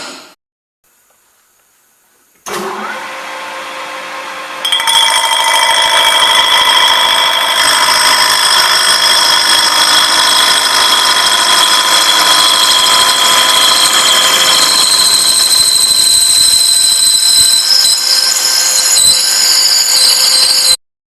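After a brief quiet start, a milling machine spins up into a loud, steady metallic whine, then a drill bit grinds continuously into metal with shifting high tones.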